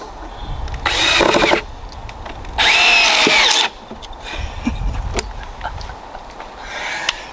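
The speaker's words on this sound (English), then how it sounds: "Now we can start putting our screws in." A power drill whirs in two strong bursts as screws are driven into wood, with quieter shuffling and handling noises between and after the runs.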